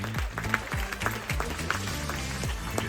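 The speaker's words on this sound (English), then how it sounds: "Please, a nice round of applause for Ricardo." Applause from a cruise ship audience at a captain's Q&A aboard Royal Caribbean's Ovation of the Seas, steady clapping across the room with pulsing low-pitched rumbles underneath.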